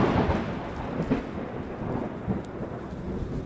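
Heavy monsoon rain pours steadily on a highway in Gujarat, India, in a dense, continuous roar with low rumbling beneath, no voices, holding at an even loudness throughout.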